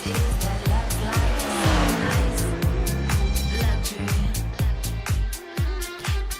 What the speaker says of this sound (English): First car on the track, Kyle Bowl, the number 44